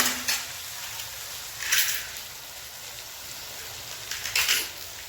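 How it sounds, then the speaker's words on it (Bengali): Dried red chillies are stirred in a cooking pan while mutton is being prepared, giving a soft sizzle with a few brief metallic scrapes of the spoon against the pan, fairly close and with no talk. "শুকনো লঙ্কা দিলাম, একটু নেড়ে নিচ্ছি।"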